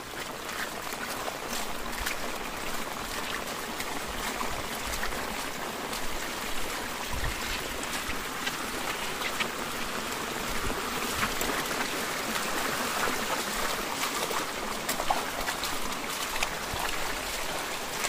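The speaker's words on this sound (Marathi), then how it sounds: "सगळं पाणी चाललंय." Rainwater rushes along a stream on a Konkan plateau during a heavy monsoon downpour, a constant broadband wash of flowing water with scattered splashes, close and alone.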